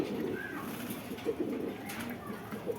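Pakistani Giribaz pigeons coo in low, soft, repeated rolling calls, several birds close together and overlapping, with a steady murmur of background noise throughout.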